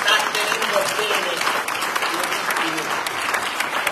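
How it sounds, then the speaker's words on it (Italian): Audience applause at an Italian political campaign rally presenting candidates for the Islands constituency, sustained dense clapping that fills the hall evenly, with voices faintly mixed in. "Un applauso a lei perché sta tenendo bene."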